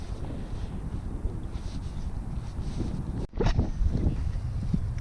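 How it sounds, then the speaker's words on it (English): Wind buffets the microphone steadily on a boat during spring striper fly fishing, a constant rumbling gust with a sudden bump and shift partway through. "This wind is picking up again."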